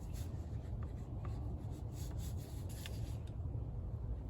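Steady scratchy rubbing of a pen or crayon across paper, continuous and close, with a few light taps along the way.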